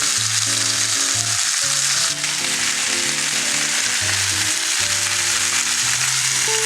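Osso buco meat on the bone browning in a pan with little oil sizzles loudly and steadily, with faint music underneath.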